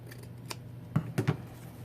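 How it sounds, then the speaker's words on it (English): Scissors snip through quilt batting for a sewn trivet in a quiet basement, giving three quick, close, crisp cuts in the second half after a faint earlier snip, with no talking. "You just want to cut the batting."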